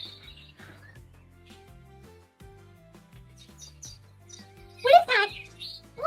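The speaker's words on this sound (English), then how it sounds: "playing bird noises on his phone" Bird chirps and tweets play from a phone speaker, sparse at first, then a loud burst of rapid chirping near the end, while a person talks quietly underneath.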